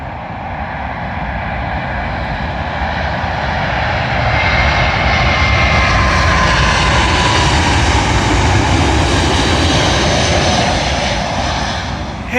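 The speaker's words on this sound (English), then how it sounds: "Arriving in now is an American Airlines Boeing 777 from Dallas" An American Airlines Boeing 777 arriving from Dallas lands on runway 27L at London Heathrow, with a loud, sustained jet roar that rises to a peak midway and then eases slightly.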